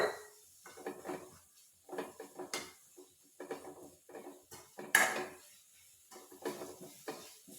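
Onions being sautéed in a pan with a pinch of salt, heard as a series of clinking utensil scrapes and stirs against cookware, moderately close with short pauses between strokes.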